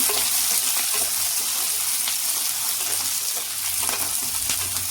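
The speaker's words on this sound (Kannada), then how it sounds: "ಚೆನ್ನಾಗಿ ಫ್ರೈ ಮಾಡ್ಕೋಬೇಕು." Onions frying for tomato chutney in a pan give a steady, close, loud sizzle throughout, with faint stirring scrapes and no talk.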